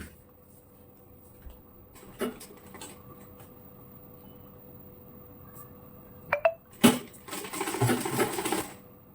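A sewing machine stitches strips of fabric for a ladies' pant in short bursts, a few brief rattling runs at first, then a louder, longer stretch of rapid stitching near the end.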